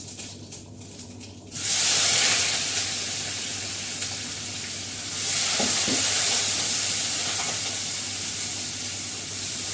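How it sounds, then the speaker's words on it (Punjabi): Cumin seeds hit hot oil for a tadka and burst into a loud, steady sizzle that rises abruptly after a short quieter lead-in and keeps crackling close up with no talking. "ਤੇਲ ਆਪਣਾ ਗਰਮ ਹੋ ਗਿਆ ਤੇ ਸਰਕਾ ਵੀ ਕੱਟ ਲਿਆ ਆਪਾਂ ਨੇ ਜੀਰਾ ਪਾ ਕੇ ਲਾਈਏ ਤੜਕਾ"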